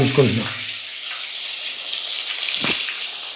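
Onions, green chillies, fenugreek seeds and cumin frying in oil in a home kitchen, a broad steady hiss of sizzling after a brief clatter at the start, with a short scrape partway through.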